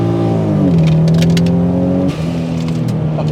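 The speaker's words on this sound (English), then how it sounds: "Put it down into L. Wow, there it is. And let's feel this twin turbo straight six." Toyota Supra MK4 with a twin-turbo straight-six revving hard in a low gear, a loud, close engine note climbing steadily in pitch, dipping briefly at a shift, then pulling again with a steady drone.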